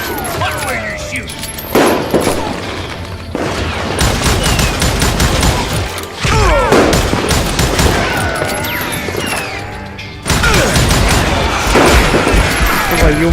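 Gunfire in the Western shooter Call of Juarez: Gunslinger, loud rapid volleys of shots in bursts with crashes and booms between them, a voice briefly shouting over the shooting.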